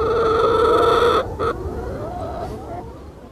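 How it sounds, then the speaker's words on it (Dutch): Contented chickens on a farm making soft, low clucking and purring sounds close by, with a steady murmur of several birds at once and brief pauses between. "je hoort de kippen hier, hoor je allemaal van die hele zachte pokgeluidjes maken"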